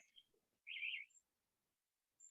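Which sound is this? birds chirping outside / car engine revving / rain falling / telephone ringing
birds chirping outside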